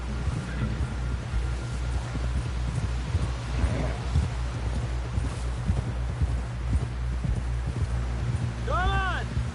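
Rhythmic hoofbeats of a horse galloping in a PS4 video game, a steady, fairly close clip-clop under a low ambient bed, with a brief rising electronic tone near the end.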